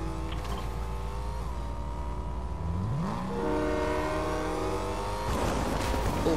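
A car engine in Fortnite runs at a steady drone, then rises in pitch as it accelerates and revs, loud and near, with no talking over it.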